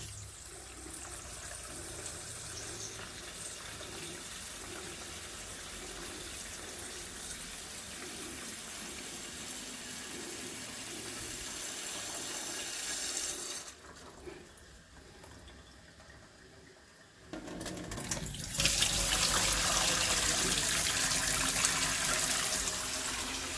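Water runs steadily from a kitchen tap while cooking, a continuous close hiss that drops for a few seconds, then surges louder and brighter as the flow is turned up.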